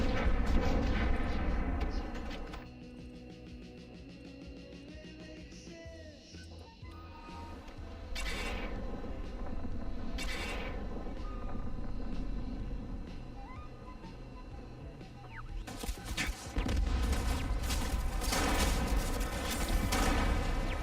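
Tough turrets in Starfield open fire, with bursts of gunfire and booming impacts that come and go over a low game rumble, loudest in the opening seconds and again near the end.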